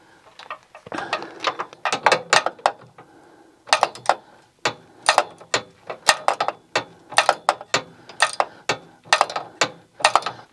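A ratchet with a deep socket clicks in repeated bursts while snugging down rocker guard bolts on a Jeep Wrangler JK, close and distinct, with short pauses between strokes.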